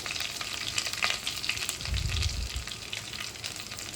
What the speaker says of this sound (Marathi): आता मी ह्याच्यामध्ये जिरी मोहरी टाकते.